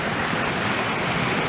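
A Tennessee mountain waterfall roars in a dense, steady broadband rush, close and loud, with no other sounds standing out.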